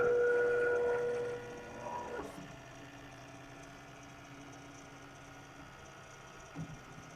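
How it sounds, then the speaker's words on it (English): A BCN3D Sigmax 3D printer running a print test whirs with a steady tone for about two seconds, then drops to a low mechanical hum with faint motor shifts and a small clunk near the end. "we have the printer in proper operation. It will now do the print test."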